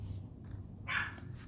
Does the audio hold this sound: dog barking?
yes